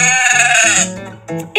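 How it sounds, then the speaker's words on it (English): A sheep bleats loudly with a wavering, nasal cry lasting almost a second, followed by two shorter bleats after brief pauses, heard close and alone on a farm. "It's a sheep."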